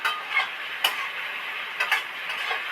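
Spiced chicken being stirred in a frying pan, with a soft continuous sizzle and a few light scraping clicks from the spoon, close and fairly quiet, with no talk.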